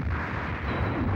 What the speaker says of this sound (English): It's like big bombing.